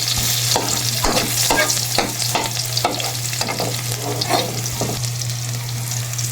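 Dried daing fish and garlic sautéing in oil in a pan, a loud, bright, continuous sizzle close by, with rhythmic scrapes and clacks of a spatula stirring about once a second and no talking.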